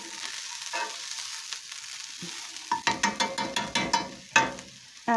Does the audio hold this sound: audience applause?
no